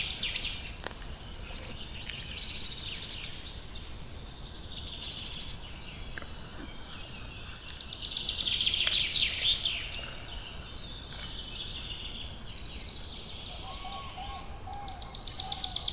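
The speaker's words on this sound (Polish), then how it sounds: "To jakieś ptaki." Birds call and chirp outdoors at sunrise, a busy mix of high, repeated songs from several birds at moderate distance over a soft, steady background hush, with no voices.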